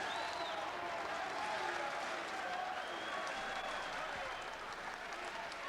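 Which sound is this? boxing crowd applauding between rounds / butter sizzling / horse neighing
boxing crowd applauding between rounds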